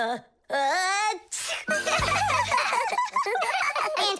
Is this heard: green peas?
no